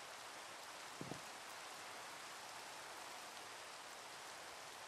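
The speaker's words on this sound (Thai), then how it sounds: "ไหนๆฝนก็ตกละขอใช้โอกาสนี้ให้เกิดประโยชน์หน่อยค่ะ" Steady rain falling in the farming game Crop Block, an even soft hiss throughout, with a couple of faint taps near the start and no voices.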